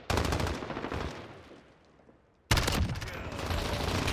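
Rapid bursts of automatic gunfire from a first-person shooter video game, loud and close, fade into a brief lull, then a sudden fresh volley resumes with sustained fire.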